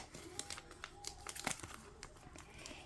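Cookie Run booster pack wrapper torn open, a quiet close-up run of crinkling and sharp tearing crackles in irregular bursts, with the loudest rip near the middle.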